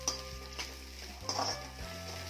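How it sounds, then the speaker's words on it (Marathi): Vegetables stir-fried with salt over a high flame for veg Hakka noodles, a soft steady sizzle with a few clinks and scrapes of a utensil against the pan, close but quiet, no voices. "अगदी हाय फ्लेमवर हे छान परतून घ्यायचं आहे."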